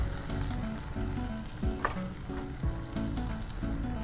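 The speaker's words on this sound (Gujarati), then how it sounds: "તો કેપ્સિકમ પણ સરસ સંતળાઈ ગયું છે." Capsicum sautéing in a hot pan, a steady close sizzle with a few stirring scrapes, alone without voices.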